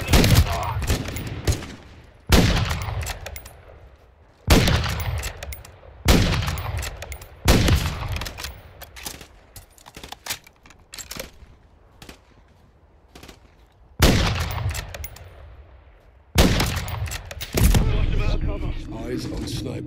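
Call of Duty: Modern Warfare III gunfire comes as repeated loud, sharp bursts of rifle and automatic fire, each volley ringing out before the next, separated by short quieter gaps.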